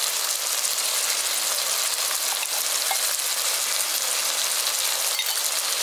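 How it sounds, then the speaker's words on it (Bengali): Carp fish curry cooked village style in a pan, hissing with a loud, dense and constant sizzle after a spoonful of mustard oil is drizzled over the top, with a few faint clinks. "এবার সবার শেষে আমি 1 চামচ সর্ষের তেল ওপর দিয়ে ছড়িয়ে দিচ্ছি।"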